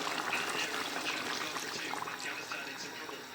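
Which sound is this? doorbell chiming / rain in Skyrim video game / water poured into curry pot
water poured into curry pot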